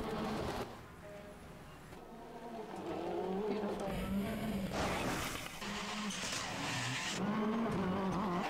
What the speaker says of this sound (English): Is it loud enough, guys? Do we need more car noises?